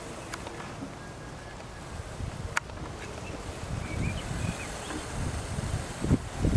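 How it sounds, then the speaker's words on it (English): Wind at the Sea of Galilee rushes steadily past the microphone with low buffeting gusts that swell toward the end, plus a few faint clicks and no speech. "And we have a Galilean good wind."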